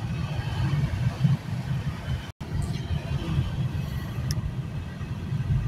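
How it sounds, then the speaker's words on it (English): A car drives down a bumpy street named Nebraska in Marion, Indiana, a continuous low rumbling road and engine drone with vibration throughout and a brief cut midway. "I'm sure you can hear my car vibrating as I'm hitting all these bumps."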